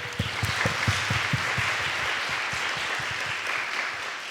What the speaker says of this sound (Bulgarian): Аплодисменти за нашите мажоретки!